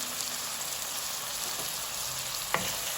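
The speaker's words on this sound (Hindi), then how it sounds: "इसको भी अच्छे से मिला लेंगे और टमाटर प्याज को अच्छे से पकने के लिए रख देंगे" Tomato and onion for a prawn curry sizzle in a pan as they are stirred, a dense, steady frying hiss up close with one sharp utensil knock near the end.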